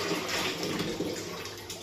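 Water pouring into a fish breeding tank, a steady splashing gush from close by that carries on throughout.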